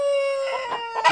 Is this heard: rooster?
yes